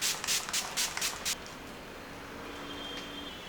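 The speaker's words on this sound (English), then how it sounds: "Let's set our face with this Swiss Beauty makeup fixer." Swiss Beauty makeup fixer setting spray is sprayed in about six short, quick hissing bursts close to the face. Quiet room tone follows afterward.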